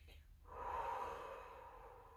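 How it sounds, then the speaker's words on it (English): A long, steady exhale during a guided breathing exercise, a soft airy rush that swells after a brief intake and then slowly fades out, close and fairly quiet. "We want a nice long exhale."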